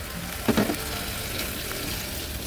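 Tofu with minced beef, Hong Kong style, sizzles in a pan with a little added water while it is stirred. A brief scraping clatter rises over a steady soft hiss.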